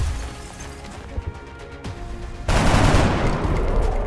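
Gunfire in the video game XCOM: Enemy Within: a few sharp reports early on, then a sudden loud burst of rapid automatic fire with crashing impacts lasting to the end.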